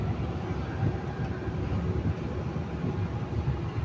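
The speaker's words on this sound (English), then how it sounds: "See, the engine sound is changed. It seems like accelerating." A loud, steady low engine rumble from a CAT 320D2L excavator accelerating at high idle drones throughout, heavy and close, with no clear breaks.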